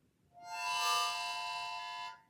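A single sustained harmonica draw note on the 6 hole, breathed in and held steadily for nearly two seconds with rich bright overtones, close and clear with no other sound.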